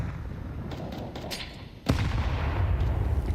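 A grenade explodes in the Counter-Strike video game with a sudden loud boom and rumbling tail, after quieter scattered gunfire and ambient noise during a competitive esports match.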